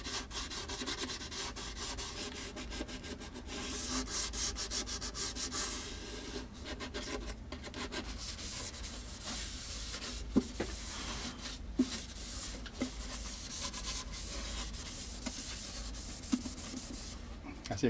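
Sandpaper rubbing steadily over the smooth wooden surface of a handmade violin before varnishing, a continuous close scratchy rasp with small knocks, with no talk.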